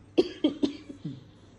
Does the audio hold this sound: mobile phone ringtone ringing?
no